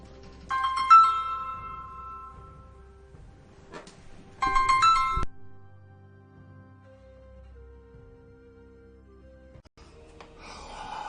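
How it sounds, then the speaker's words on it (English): A phone ringtone plays during a call: two bright bursts of a melodic electronic tone, each lasting under a second, with quieter sporadic sounds between them in an otherwise hushed room. "Oh, that was a important phone call."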